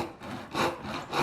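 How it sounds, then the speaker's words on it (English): Dovetail saw cutting through UHMW plastic, three or four rhythmic back-and-forth rasping strokes, close and steady. "dovetail saw."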